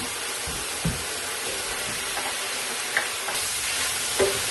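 Onions frying in an electric wok for a chicken and vegetable stir fry, a bright continuous sizzle close by with a few soft knocks from stirring.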